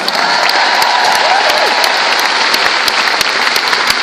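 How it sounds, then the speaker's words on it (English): Sustained audience applause at a women's seminar, dense and steady from start to finish without a break. "give her a round of applause"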